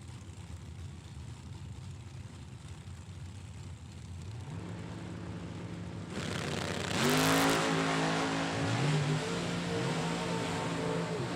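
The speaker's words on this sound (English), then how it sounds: "Another blown entry, chasing down the more conventional, normally aspirated dragster." A supercharged drag racing dragster engine revs up and roars loudly, with rising harmonic sweeps as it accelerates at a drag strip, growing louder toward the end.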